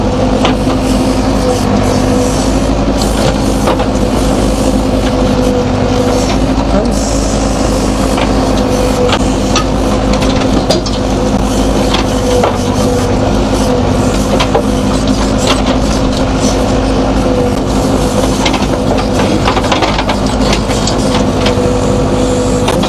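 A JCB 3DX backhoe loader doing loading work runs its engine at a steady, loud, close drone that holds an even pitch throughout, with no pauses.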